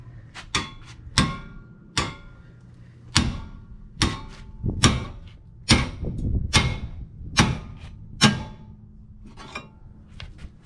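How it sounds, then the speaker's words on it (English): Sharp, ringing hammer blows strike a 1999 Toyota Corolla's steering knuckle to pop the outer tie rod loose, about a dozen loud metallic hits at an uneven pace. "we're going to pop this outer tie rod"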